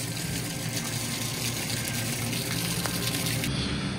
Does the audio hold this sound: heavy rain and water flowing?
yes